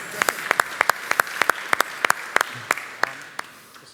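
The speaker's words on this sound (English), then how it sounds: "I think this gets a round of applause" Applause at a software conference talk, with sharp individual claps standing out over a softer background patter that thins and fades toward the end; no speech.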